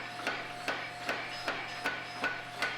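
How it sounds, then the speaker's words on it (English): A forging hammer strikes a hot mosaic steel billet made from stacked shims in a steady, evenly spaced rhythm of about seven sharp metallic blows over a faint background hum, with no voices. "Different view of the hammer."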